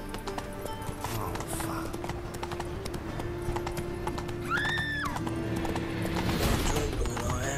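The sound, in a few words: horse Roach galloping in video game The Witcher 3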